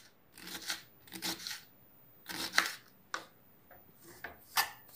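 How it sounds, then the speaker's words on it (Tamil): A knife chops cabbage into small pieces for vegetable upma. It gives a string of close, crisp cutting strokes in irregular bursts with short quiet gaps, and no one speaks. "இதுவுமே சின்ன சின்ன பீசஸாக கட் பண்ணிக்கலாம் நம்ம கேபேஜ் கூட."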